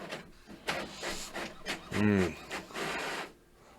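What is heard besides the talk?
printer printing out pages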